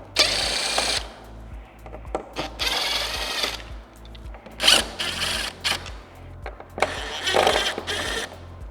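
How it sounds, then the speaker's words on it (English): A power drill whirs in repeated short bursts, starting and stopping as screws are backed out of a Harley CVO motorcycle's front speaker area, with rattling between runs. "I prefer to use a drill."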